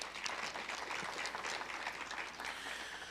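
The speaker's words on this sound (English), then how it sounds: "quick round of applause for Waverly" A quick round of applause from an audience at a high school scholarship quiz competition: dense, steady clapping throughout, soft and somewhat distant, with no talk over it.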